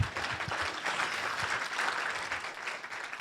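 Audience applause fills a hall during a talk on federalism, a steady dense patter of clapping from a crowd, fairly close and continuous with no speech over it.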